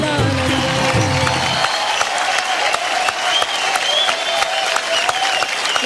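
An awards-show audience applauds warmly with scattered cheers after a performance. The final notes of music trail off under the opening clapping, which then carries on steadily on its own.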